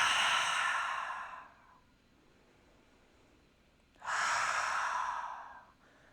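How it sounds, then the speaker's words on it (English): Two forceful, breathy HA exhalations during an energy yoga flow, each a long loud whoosh of air close to the mic, separated by a quiet pause of roughly two seconds. "take 2 more of your HA breaths, seeding the flame in the low belly"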